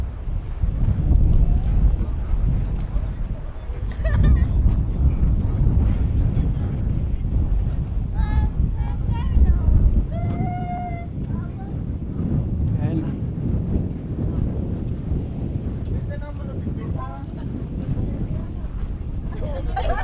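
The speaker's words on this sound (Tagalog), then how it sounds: "Ang lakas ng hangin, di tayo makakapagpalipad ng drone." Strong seaside wind buffets the microphone in a steady, loud rush along the coast at Roxas City, with surf behind it and people talking over it.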